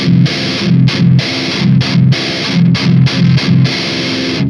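An electric guitar played through a Marshall Valvestate amp with a scooped, heavily distorted tone, hammering out a steady rhythm of loud, palm-muted chugs separated by short gaps.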